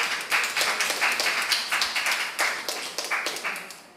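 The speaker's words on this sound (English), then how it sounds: "a round of applause, please" An audience at a formal debate between two organised teams gives a round of applause, a steady patter of many hands close by that trails off toward the end.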